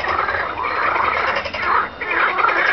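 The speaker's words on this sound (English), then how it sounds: "I think the frogs are a little upset." Dense, continuous frog croaking fills the clip, loud and close, a chorus of overlapping calls with no voices.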